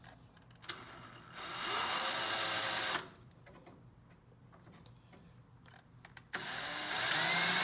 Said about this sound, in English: let me go ahead and drill that out